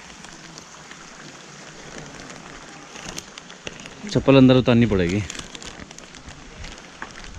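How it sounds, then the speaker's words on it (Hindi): Rain falling outdoors during a monsoon trek up Anjaneri Hills near Nashik, Maharashtra, a steady crackling patter throughout, swelling briefly midway, while a person talks over it. "और बारिश चालू हो गई, अभी थोड़ा कम हुई है"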